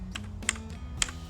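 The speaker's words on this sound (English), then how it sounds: "and start typing" Keys clatter on a computer keyboard in a short burst of typing, with a few sharper clicks standing out over a low background hum; no voice is heard.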